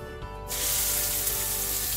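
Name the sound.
onions frying in hot cooking oil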